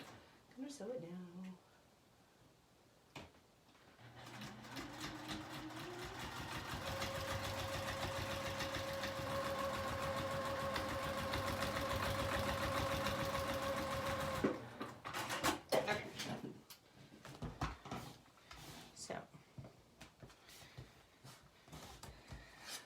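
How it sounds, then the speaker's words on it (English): Sewing machine stitching the center flap of a quilt block, a steady motor whir running for about ten seconds before stopping, close and fairly loud, with a voice talking briefly before and after. "So, I'm gonna sew it now."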